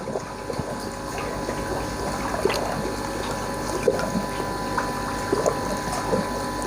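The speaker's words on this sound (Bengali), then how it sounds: "জলটা এর ভিতর দিয়ে পড়বে।" Water draining through a tied sack that filters biofloc sludge, a steady low trickling and gurgling wash with faint drips and splashes, continuous and fairly close, no talking.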